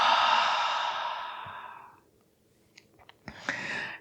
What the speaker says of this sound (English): Exhale everything.